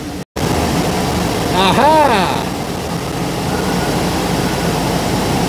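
A steady mechanical hum and whoosh of a Smart Fortwo 451's air conditioning running, with a brief exclamation from a voice partway through.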